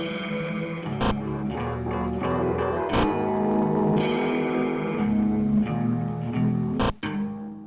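Digitized music from the video game Uzumaki Denshi Kaiki-hen, a dense, steady layered track with brief dropouts and sharp hits near the start and end, playing alone without voices.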